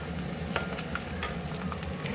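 Mustard seeds, urad and chana dal and peanuts crackle and sizzle in hot groundnut oil in a pan, a steady close frying hiss dotted with sharp pops, no voices.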